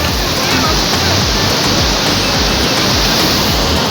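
A loud, continuous roar of falling water fills the scene, heavy and close, with low rumbling surges beneath the constant rush, on the trail from Gaurikund to Kedarnath.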